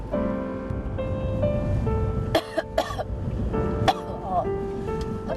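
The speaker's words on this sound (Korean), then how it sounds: "갑자기 기침을 합니다." Several sharp coughs from a woman in quick bursts, fairly close, over a background of sustained music tones and murmured talk.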